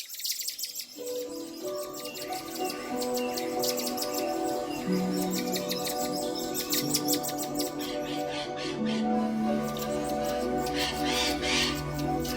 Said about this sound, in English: a vigilant saddleback tamarin calls out a warning